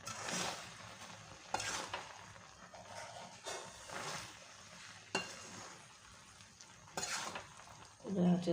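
Jujube pickle is stirred in a pan, with intermittent scraping and clinking strokes over a faint low sizzle, separated by quieter pauses; a spoken voice is faintly audible.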